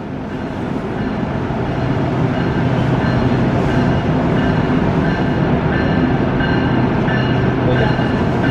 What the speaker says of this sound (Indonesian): Ini dia kereta api Anggrek